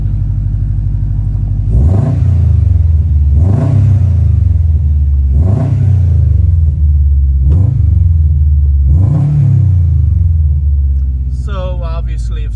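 A modified turbocharged Subaru STI engine revs hard five times in a row at close range, each rev rising and falling over a deep idle rumble, followed by a short rattling sound at the end.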